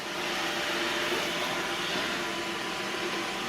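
A Roomba robot vacuum cleaner runs with a steady, continuous whirring hum, close and unbroken throughout, with no talking.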